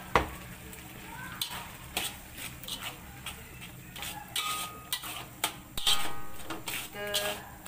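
Grated coconut frying in a hot pan with turmeric leaves, scraped and stirred with a utensil in irregular bursts of sizzle and clatter, heard close up with occasional faint background sounds.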